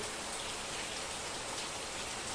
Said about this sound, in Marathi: खूप पाऊस पडतो